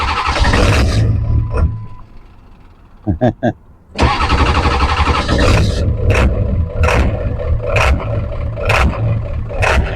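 A cold 1999 Ford F-250 fitted with a 2001 engine cranks in a few short bursts, then catches and runs rough and loud, with a lumpy, uneven rhythm and repeated surges throughout.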